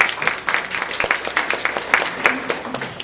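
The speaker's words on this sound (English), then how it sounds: "Can we give her a round of applause, please?" An audience at a senior community forum in Ulster County claps in a lively round of applause, dense overlapping hand claps with a few distinct sharp ones standing out, sustained at a moderate level for a few seconds.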